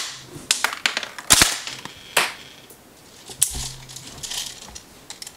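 Airsoft gun fitted with a Systema cylinder set, M120 spring and bearing spring guide, firing 0.2 gram BBs through a chronograph: a series of sharp, irregular shots, some close and loud, others lighter, with no talking.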